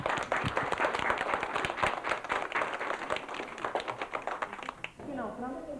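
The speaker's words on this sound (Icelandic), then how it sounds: "Og nú skulum við gefa honum Sigga gott klapp" A school audience gives lively, rapid clapping for Siggi at a 1980s Icelandic school event, continuing steadily for about five seconds before a voice speaks over the fading end.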